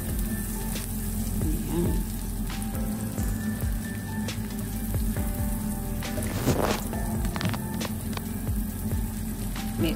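Coriander stems fry in a pan for shrimp squid ink pasta, making a loud, continuous close sizzle with scraping stir sounds and a brief spoken word over it.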